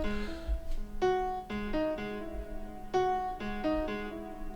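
Electric guitar through an Eventide H90 effects pedal on its first hot switch setting, a series of clean plucked notes and short phrases with sustained ringing tones, close and fairly quiet, no speech.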